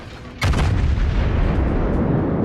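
Main guns of the Yamato battleship firing a salvo in World of Warships: a sudden loud, deep boom followed by a sustained heavy rumble that fills the rest of the clip, with no voices.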